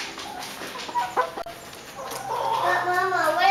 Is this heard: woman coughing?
no